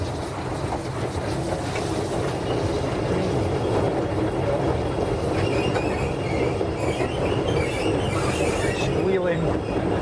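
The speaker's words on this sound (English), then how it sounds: "Squealing flanges." Steam train wheel flanges squeal in high, wavering tones over a constant loud rumble and clatter of wheels on the rails, continuing through the whole stretch with no clear talk.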